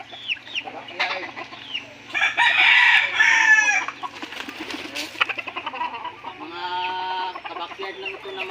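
Backyard chickens kept as gamefowl, with a rooster crowing and hens clucking close by in bursts and overlapping calls, loud and varied throughout.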